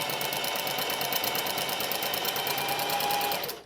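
A sewing machine bar tacks with heavy canvas thread, a fast steady stitching rattle running loud and continuous for a few seconds before stopping abruptly.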